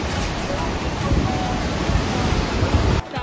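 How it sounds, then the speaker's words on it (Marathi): Strong, continuous rush of overflow water from Makardhokda Dam, loud and close, with a brief dip near the end. "पाण्याचा फ्लो आणखी कमी नाही झालेला आहे, आणखी वाढीवर आहे पाणी"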